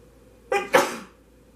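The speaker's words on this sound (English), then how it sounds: "Can't hold in a sneeze" A single close sneeze with a short catching inhale, then a sharp, loud burst that trails off, in a quiet room.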